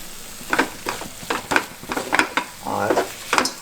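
Paneer bhurji with onion and tomato is stirred in a hot pan, a spoon scraping in repeated strokes over a steady sizzle of frying food, close and clear with no talk.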